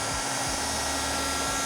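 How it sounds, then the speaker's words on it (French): A heat gun warms the sides of a cake mould before unmoulding, giving a steady, loud blowing whir with a constant motor hum and no speech. "On va passer un coup de décapeur thermique histoire de bien pouvoir le démouler."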